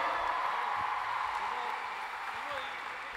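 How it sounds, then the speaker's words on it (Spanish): A theatre audience at a live show in the Teatro Provincial in Salta applauds in a dense, steady wash that fades slightly over a few seconds, with voices underneath. "Nos despedimos con un aplauso aún más fuerte"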